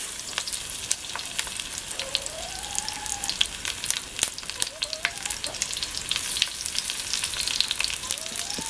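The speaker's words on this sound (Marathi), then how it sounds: "त्याच्यात मग आलूवडी फ्राय करायला घ्यायच्या" Colocasia leaf rolls (alu vadi) frying in a shallow layer of oil with a light tempering, giving a steady crackling sizzle throughout with sharp pops, close and moderately loud, no talking.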